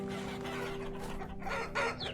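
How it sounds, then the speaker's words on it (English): A crowd of chickens in Vintage Story clucks and squawks steadily at close range, with a sharper squawk near the end over a low hum. "Okay, that is just a lot of chickens"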